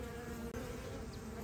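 Honey bees buzzing steadily at an open hive on a cold, wet evening, a dense continuous drone close by with no talk.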